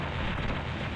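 A grenade blast in a video game, a dense, broadband roar filling the full second with no sharp onset, fairly loud and alone with no talk.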